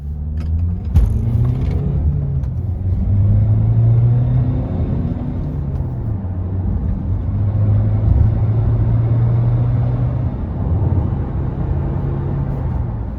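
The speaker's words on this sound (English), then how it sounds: "First gear, second gear, into third, and we're at 80 kilometers an hour." A 2018 Honda CR-V 1.6 diesel pulls uphill on a wet road, its steady engine drone rising and dropping as it works up through the gears, with no one talking.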